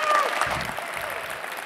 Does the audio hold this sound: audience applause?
yes